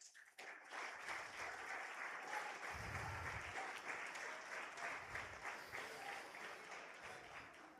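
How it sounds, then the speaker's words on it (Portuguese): A church congregation at a Sunday service claps steadily and continuously, a dense, sustained round of applause filling the room, heard at a moderate distance with a faint low rumble underneath. "Você pode aplaudir o Senhor em nome de Jesus?"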